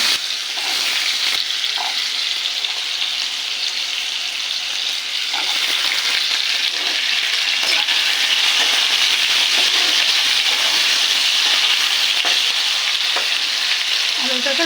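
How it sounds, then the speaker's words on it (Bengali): Potato pieces fry in hot oil in a wok with bay leaves and whole cumin, a loud, close, continuous sizzle with occasional stirring scrapes and no talking. "আলুর টুকরোগুলো ছেড়ে দেবো।"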